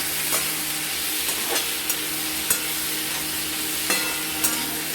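Slit green chillies frying and being stirred in a pan for a hilsa fish curry with ash gourd, an even sizzle punctuated by several soft clinks and scrapes of a utensil.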